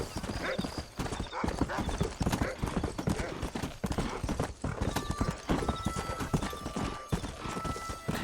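Horse hooves clip-clopping in the video game Red Dead Redemption, a loud, steady rhythm of close hoofbeats that continues throughout, with brief game tones and faint voices in the background.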